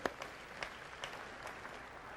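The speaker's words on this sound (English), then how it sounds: "Now, you can clap, that's right." Faint, scattered audience clapping in a large keynote hall, a soft wash of a few hand claps at a low level.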